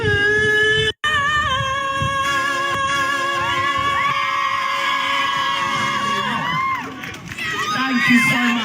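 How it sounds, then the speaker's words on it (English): A theatre audience in Liverpool cheers and shouts for the actress playing Elphaba, a loud, sustained crowd roar with whoops layered over held musical tones, swelling again near the end. "you hear the applause, you hear the people cheering"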